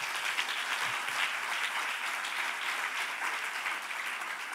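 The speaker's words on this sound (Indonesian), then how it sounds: "Berikan tepuk tangan bagi Tuhan kita Yesus." A church congregation claps together in a steady, dense wave of applause, filling the room evenly for a few seconds without a break.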